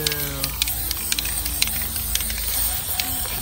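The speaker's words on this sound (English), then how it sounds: "We are going to use this Looking Glass spray paint." A can of Looking Glass spray paint hisses in short, repeated bursts with faint clicks of the nozzle, close by, against a steady background.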